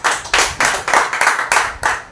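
A church congregation at a Wednesday service claps loudly in unison, sharp rhythmic bursts roughly four per second, close and energetic with no talk over it.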